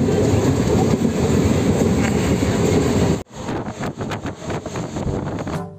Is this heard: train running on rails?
yes